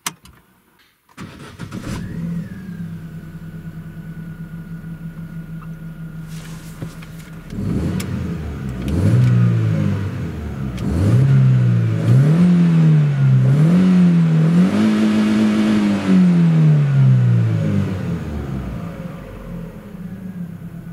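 Chevrolet Aveo with its catalytic converter replaced by a spacer: the engine cranks and starts, idles with a low steady exhaust drone, then revs in several rising and falling surges before settling back down.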